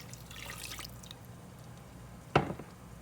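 A cup of water is poured into a baking pan with melted butter and sugar, heard as a short, close liquid splash that settles quickly over a quiet room background.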